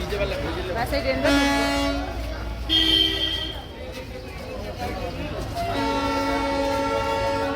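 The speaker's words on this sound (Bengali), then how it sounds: "ট্রেন ঢুকছে না" A train pulling into Darjeeling station sounds repeated drawn-out horn blasts, three main bursts with gaps between, over a rumbling station background with people talking nearby.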